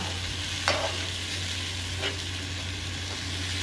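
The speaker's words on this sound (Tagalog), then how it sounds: "Nagginisa ko na po yung kamatis po natin dyan." Tomatoes sauté in a pan with garlic and onion, a steady hiss of frying under a low hum, with a few sharp scrapes of stirring that stand out near the start and the middle.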